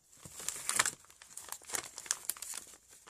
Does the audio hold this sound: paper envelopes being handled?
yes